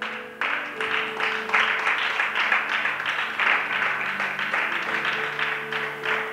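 A church congregation applauds steadily, many hands clapping in a dense, continuous patter that holds for several seconds over sustained musical tones in the room.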